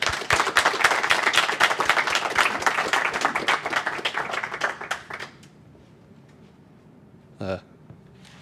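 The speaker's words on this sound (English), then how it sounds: "another round of applause for Michael" A small meetup audience at a JavaScript talk gives a short burst of clapping for the speaker, lively for about five seconds before dying away into room quiet, followed by a brief voice near the end.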